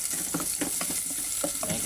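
A spatula stirs squid and onions sautéing in a pan, with quick scraping and clattering strokes over a steady soft sizzle, close and unaccompanied by voices.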